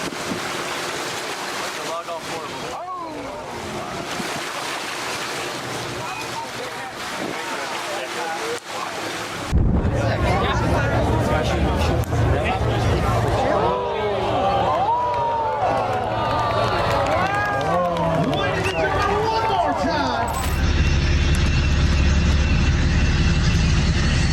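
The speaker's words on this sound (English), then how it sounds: "Landing a seaplane on rough, windy water is never easy" A seaplane touches down on rough, windy water: quiet cabin drone, then a sudden loud rush of spray, splashing and wind buffeting that continues steadily to the end.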